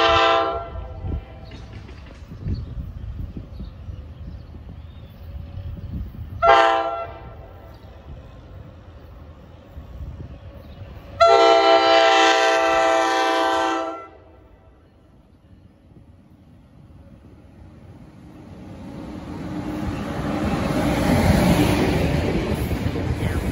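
An NJ Transit ALP-45 locomotive train rumbles past Convent Station, New Jersey, with rail noise, punctuated by two loud horn blasts, then fades into a broad, distant roar.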